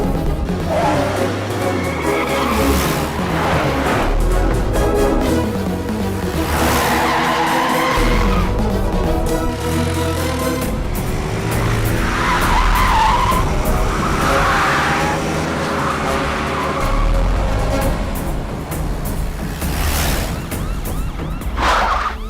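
A red Fiat skids during a chase, tyres squealing in long drawn-out screeches over loud engine roar and road noise, with the sound staying intense and close throughout.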